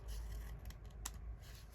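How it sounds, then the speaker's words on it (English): A single quiet snip of scissors cuts off a length of lace over low room noise, close and brief. "Okay, snip that off here."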